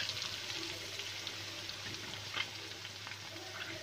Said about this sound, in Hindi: हल्का सा ऐसे भूनना है, बहुत ज़्यादा नहीं।